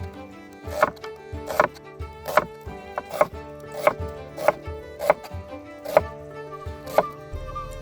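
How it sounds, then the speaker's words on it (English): A knife slices through two onions on a cutting board, giving about ten sharp, evenly spaced chops at a steady rhythm, close and clear over a faint background of music. "Let's start this by slicing up 2 onions."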